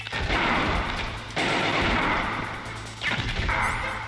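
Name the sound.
gunfire in Metal Gear Solid video game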